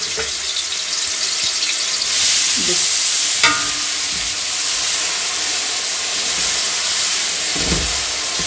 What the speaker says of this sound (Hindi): अब इसके अंदर हम 2 चॉप्ड ओनियन है, 2 बड़े साइज की ओनियन है, उनको हम डाल के इसमें फ्राई करेंगे